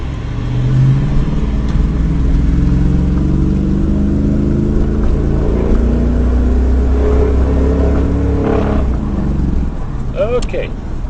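A 2004 Dodge pickup engine runs with a loud, continuous low rumble and some rising revs throughout, while people talk over it.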